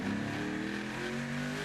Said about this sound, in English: You could hear that car